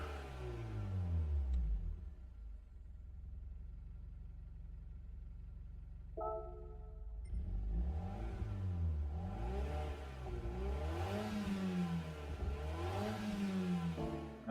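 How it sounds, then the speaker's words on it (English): In Gran Turismo 7, a small 660cc turbocharged three-cylinder car engine drones steadily, then after a brief pause rises through a series of repeated rev sweeps up and down. The engine is heard alone at a moderate level. ".660cc 3 cylinders with a turbocharger"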